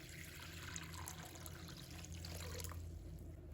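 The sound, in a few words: clean water poured into a bowl of preserved radish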